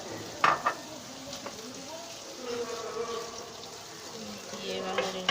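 Chicken curry with potatoes being stirred in a pan, a soft continuous sizzle with scraping strokes and a few sharp clinks of the spoon against the pan.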